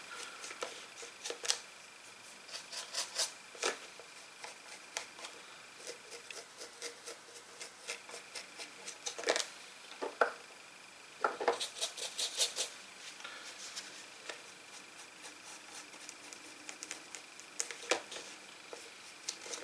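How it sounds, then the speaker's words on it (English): Paintbrush scrubbing over the base of a Lion El'Jonson miniature: soft, faint dry bristle scratches in irregular short strokes, with quiet gaps and a few slightly louder rasping passes, no talk. "you do this brushing over all the different surfaces"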